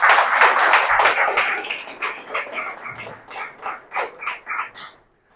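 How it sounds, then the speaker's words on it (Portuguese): An audience at a religious workshop claps, starting as dense applause and thinning to a few separate, rhythmic claps before stopping. "Um aplauso a esses 3 guerreiros nossos antepassados."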